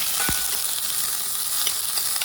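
Onion fries in oil in a pan with a constant bright sizzle throughout. One short low knock sounds early on, like a spoon stirring the pan.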